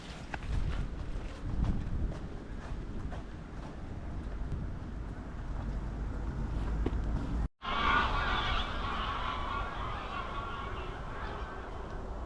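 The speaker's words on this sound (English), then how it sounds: "There's a lot of geese around here." Many geese honk continuously in Milnathort, with a busy flock chattering throughout; wind rumbles across the microphone, and a brief dropout cuts in partway through.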